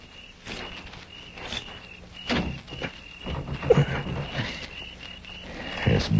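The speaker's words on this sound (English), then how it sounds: "I'm going to try the door." In an old-West radio drama, a door is tried and found bolted: scattered knocks, thumps and rattles sound close by over a steady background hiss and insect-like chirring.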